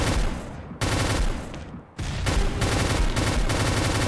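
Rapid automatic gunfire from the online shooter game XSHOT comes in loud, dense bursts, with two brief pauses between sustained volleys.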